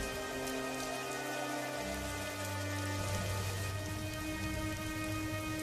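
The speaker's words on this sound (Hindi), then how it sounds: "देखते ही देखते भयंकर बारिश शुरू हो जाती है।" Heavy rain falls steadily with thunder rumbling low beneath it, a dense continuous wash of rainfall layered with sustained tones, with no one speaking.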